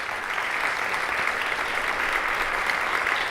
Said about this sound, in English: I want to give a round of applause for everybody who's been a part of this tonight